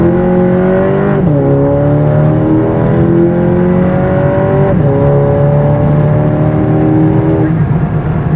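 A car with a Unitronic stage 2 tune launches hard off a brake boost, its engine roaring loud and close as it revs and pulls through several gear changes, the pitch climbing and dropping at each shift.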